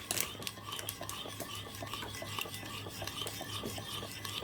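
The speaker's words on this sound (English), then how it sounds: "just going to stir that as well" Spoon stirring blue cheese sauce in a bowl for a wagyu steak dish, a steady scraping and clinking rhythm that continues close and moderately loud throughout.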